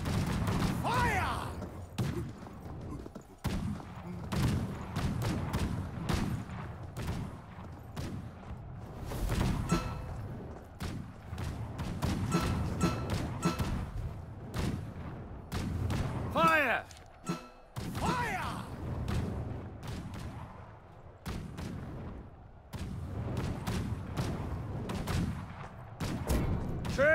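Volleys of musket fire crack out repeatedly in the Conqueror's Blade battle, Augolia Defense, sharp reports in irregular clusters over a busy background of clashing and movement, with shouted commands in between.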